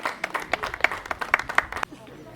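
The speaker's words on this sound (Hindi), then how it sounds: "एक बार ताली मार दीजिए" A small outdoor crowd at a tree plantation event claps in a brief burst of about a dozen separate, uneven handclaps over roughly two seconds, close and moderately loud, then stops.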